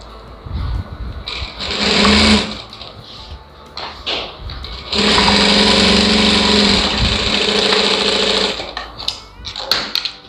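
A sewing machine stitches a blouse lining in several loud runs of differing length, separated by short pauses and handling noises, with no voices.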